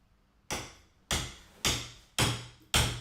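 Five sharp hammer blows land in a steady rhythm, each a loud close knock on the wooden parts of an IKEA bed frame being assembled, with brief ringing decay between strikes and no voices.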